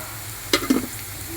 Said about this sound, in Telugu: మనం పల్లీలు ముందుగా తీసుకున్నాం కదా, వీటిని వేయించేసుకోవాలి